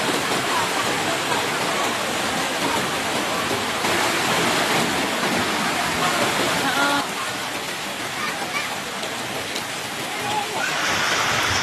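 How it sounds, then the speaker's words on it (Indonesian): Floodwater from an overflowing river in Aceh rushes steadily into villages, a loud, continuous broadband roar of churning water filling the scene without pause. "Air sungai mulai naik lagi, meluap lagi ke kampung-kampung"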